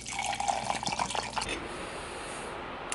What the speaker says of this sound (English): I'm going to fill it up with what will be another 30 ounces of water